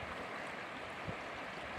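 A river running high with released dam water makes a steady, broad rushing roar outdoors, continuous and unbroken throughout.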